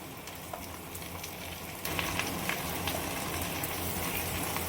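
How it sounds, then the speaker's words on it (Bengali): Chopped spinach hits a pan of frying vegetables cooked in fish oil, and a steady close sizzle swells noticeably louder about halfway through, then keeps crackling evenly. "এবারে আমরা কেটে রাখা পালং শাকটা দিয়ে দিচ্ছি।"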